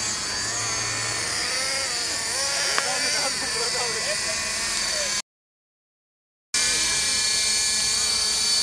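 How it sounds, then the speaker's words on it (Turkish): High-pitched whining rotors of small model helicopters buzz continuously, with shifting pitch and a voice briefly heard, cutting to silence before the whine resumes. "Helikopter sayısı arttı yalnız, evet."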